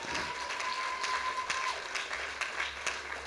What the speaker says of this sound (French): Est-ce qu'on peut acclamer le Seigneur? Acclame très fort le roi des rois.